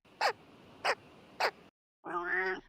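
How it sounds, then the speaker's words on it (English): A large bird calling: three short, harsh, close cries in a steady rhythm, then after a pause a longer, lower, throaty call with a rough, grunting quality. "It's a big dumb bird."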